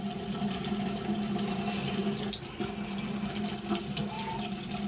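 Low-pressure water runs steadily from a bathroom tap during a skincare wash, a continuous thin rush with no voices over it.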